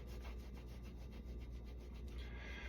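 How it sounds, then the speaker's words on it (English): A hand rubs brine over the surface of a cheese, giving a soft, continuous wet scrubbing sound in quick back-and-forth strokes, close and very quiet, with no talking. "I'll dip it in that brine first. I'm gonna rub this. We're gonna rub this and rub it off"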